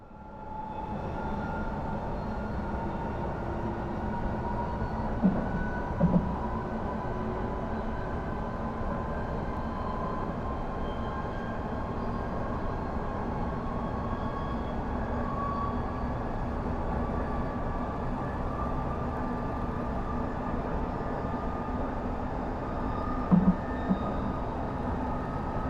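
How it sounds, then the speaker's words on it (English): Train running in the Train Simulator 2022 video game, a continuous rumbling engine drone with a steady hum, alone and unchanging for the whole stretch, broken only by a couple of faint clicks. "that ain't the right sound for this certain train"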